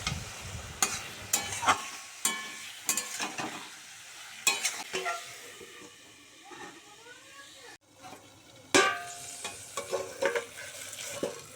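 Potato and pointed gourd being stir-fried with spices in a pan, giving a soft sizzle broken by scraping stir strokes, with someone talking through much of it.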